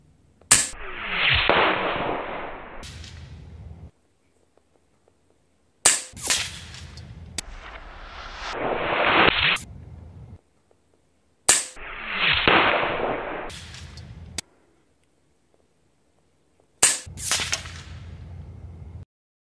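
An Ataman M2 Ergonomic magnum PCP air rifle firing several separate shots. Each gives a sharp crack with a short hissing tail, and quiet gaps fall between them.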